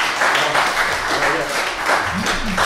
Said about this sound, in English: I want a big round of applause for Nathan Hayes.